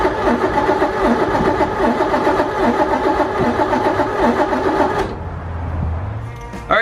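A Ferrari replica car's engine cranks over on a cold start, a loud, steady, rhythmic starter whir lasting about five seconds, then cutting off to a low rumble; a voice speaks briefly.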